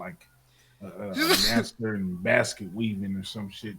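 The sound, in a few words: sneeze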